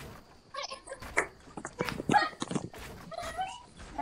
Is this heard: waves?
no